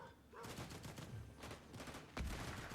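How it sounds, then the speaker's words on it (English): Rapid bursts of gunfire crackle in a Fortnite match, dense overlapping shots in quick volleys with a heavier blast near the end. "I can hear so many gunshots."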